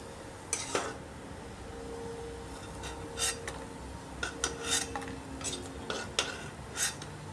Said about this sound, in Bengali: সবগুলাকে উল্টে পাল্টে এভাবে তেলের মধ্যে আরেকবার নাড়িয়ে নিচ্ছি